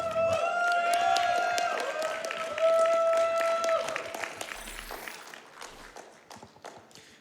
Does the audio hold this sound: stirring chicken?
no